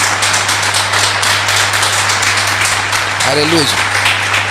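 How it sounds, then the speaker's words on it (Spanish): A church congregation claps for Christ during a Spanish-language sermon, with sustained dense applause filling the room and a voice calling out over it near the end. "Denle un aplauso a Cristo."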